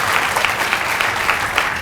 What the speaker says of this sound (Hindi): हाँ, ताली होनी चाहिए